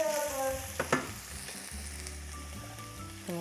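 Onions sizzle and fry in a pan, a constant crackling hiss with a couple of sharp stirring clatters and low tonal hum underneath, close and fairly quiet.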